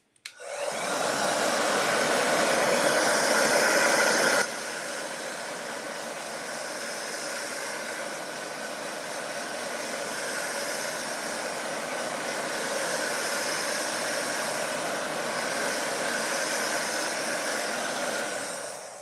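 A dryer blows continuously to dry off a tassel tree craft piece, a loud steady whoosh for about four seconds that drops to a softer sustained roar, with no talking.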